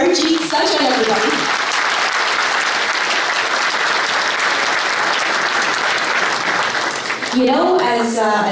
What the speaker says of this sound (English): A round of applause for Harjit Sajjan,